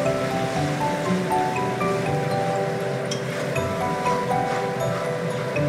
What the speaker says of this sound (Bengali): এটা দেখুন তেলের মধ্যে দিয়ে দিলাম।